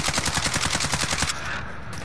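Rapid automatic gunfire from the video game Call of Duty Warzone, a loud, dense string of evenly spaced shots for about a second and a half, then a short trailing echo.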